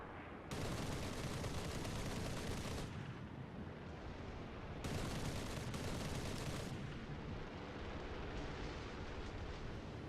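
Guns on a B-25 bomber in War Thunder fire in long, loud, sustained bursts, two dense stretches of rattling gunfire broken by a short gap, with a fainter rumble between them.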